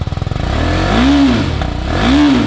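A new motorcycle's engine sputters in fast pulses, then settles into a loud, close idle broken by two quick throttle revs that rise and fall in pitch.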